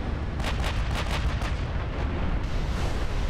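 Naval gunfire from battleship shells in Ultimate Admiral Dreadnoughts: a rapid series of sharp cracks over a constant deep rumble, the salvo striking in quick succession and fading into heavy low-end roar.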